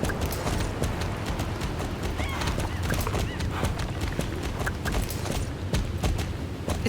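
A horse walking in the Star Stable video game, its hooves clip-clopping in an even, steady rhythm throughout, close and clear.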